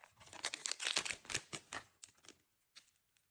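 Close, crisp crinkling and tearing of a small plastic surprise packet holding bracelets being pulled open in quick bursts, then a few softer rustles as it settles.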